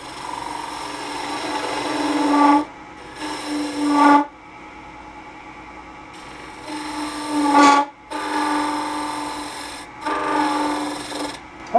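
A wood lathe turns a tiny toothpick holder while a spindle gouge cuts it, giving loud, close scraping and rasping passes broken by brief pauses.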